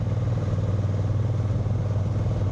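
Honda NT1100 motorcycle engine running steadily while riding on Gran Canaria roads, a continuous low droning hum with wind rush, loud and close throughout with no talking.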